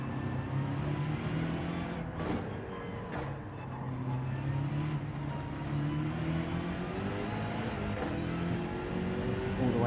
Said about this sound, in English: All the way to the rev limiter.